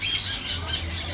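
A parrot squawks loudly and harshly at close range, a single sustained raspy call filling the short moment, at a parrot encounter on St Martin.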